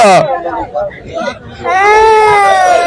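A young child cries in rising, wavering wails at a goat market, starting and ending the clip loud and close, with a short pause in between.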